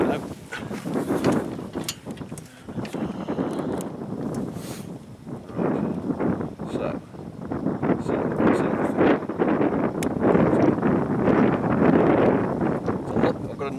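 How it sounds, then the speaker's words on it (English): A strong 90-degree side wind buffets the microphone at an outdoor shooting range, producing a steady, close roaring rush that swells and surges unevenly throughout. "So I've got a 90 degree side wind"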